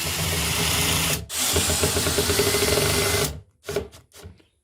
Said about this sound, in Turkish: vidalarımızı güzelce matkap yardımıyla dolabımıza yerleştirme işlemine baş devam ediyoruz